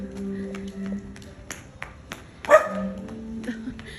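An aspin dog gives a few sharp, separate barks, moderately faint, with some tapping and faint voices around them in a home setting.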